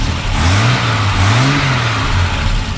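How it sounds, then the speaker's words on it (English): A 1968 Triumph TR250 engine with a new head gasket revs up and eases back in smooth swells, then settles to idle. It is close and loud, with no voices. "Go and rev it up a little bit."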